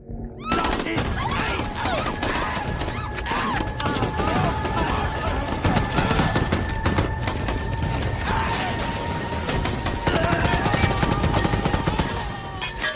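Sustained gunfire in a Hindi-dubbed Hollywood action movie, loud and dense with rapid rattling shots and metallic mechanical clatter, mixed with a tonal score and occasional voices.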